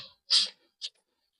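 Pen strokes scratch across paper while an accounts entry is written out: two short, fairly soft bursts, a longer one followed by a brief second, with quiet gaps and no talking.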